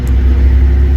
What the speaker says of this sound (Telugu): Tata cement truck first time